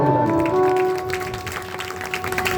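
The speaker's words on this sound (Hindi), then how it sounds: "ताली बजाओ" An audience claps steadily for over two seconds, a dense patter that swells then settles, with a sustained tonal hum running underneath.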